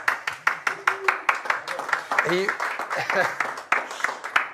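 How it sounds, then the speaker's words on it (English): A round of applause in a studio comes as sharp, separate claps from a small group, close and uneven, while people speak over and between them. "Give him a round of applause, everyone."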